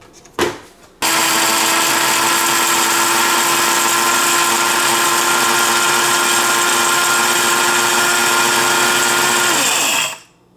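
A Mr. Coffee blade grinder whirs at a steady high pitch for about nine seconds as it grinds coffee beans, loud and close, starting abruptly after a brief click and winding down at the end.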